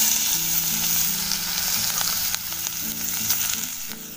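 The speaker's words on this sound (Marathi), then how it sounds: "आता तेल आपलं चांगलं गरम झालं आहे, त्यात आता कांदा टाकते" Chopped onion sizzles steadily in hot oil over a wood-fired chulha outdoors in a farm field, a dense continuous frying hiss with a low underlying hum, near and fairly loud throughout.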